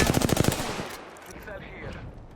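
Rapid automatic gunfire bursts from an Apex Legends match ring out loud and close for about half a second, then give way to a quieter tail of distant shots and ambient game sound.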